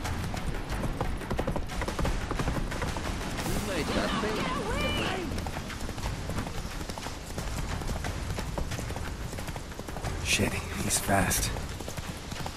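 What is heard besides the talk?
Roach the horse galloping, hooves clip-clopping, from video game Witcher 3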